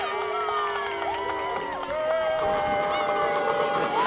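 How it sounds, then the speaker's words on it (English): Crowd cheering and jeering at a U21 women's soccer final at the Zinkin Automotive Soccer Center, a steady roar of voices with whistles and shouts carrying across the stadium. "And get some cheers and jeers from the crowd tuning in here at the Zinkin Automotive Soccer Center for that challenge"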